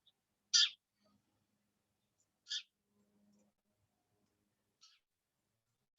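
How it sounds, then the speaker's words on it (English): A single bird gives a few short, high chirps spaced a second or two apart, clear against near silence. "I have a lovely bird chirping away."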